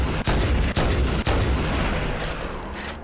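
Gunfire in the Halo CE video game, a dense, loud run of booming shots with a few sharp distinct blasts early on, then sustained rumbling fire, with no talking.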